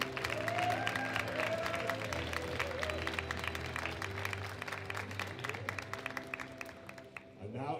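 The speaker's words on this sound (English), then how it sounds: "A round of applause for the spotters and loaders, please." Applause fills a powerlifting hall at the Women's 63 kg World Open Classic Powerlifting Championships as the crowd honours the spotters and loaders, steady clapping from a large audience throughout that thins slightly toward the end.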